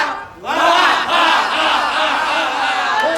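A group named Nirangkara at a Wonosobo performing arts showcase shouts its team yell in unison after a sharp pause, a loud sustained chorus of many voices with rising and falling pitch.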